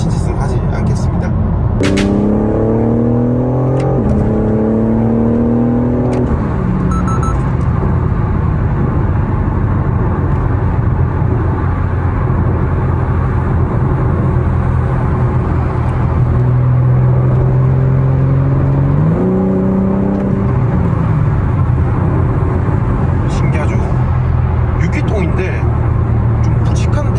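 A BMW M4 Competition G82 engine revs and accelerates through several gear changes, a steady loud drone with rising pitch sweeps, while someone talks over it throughout.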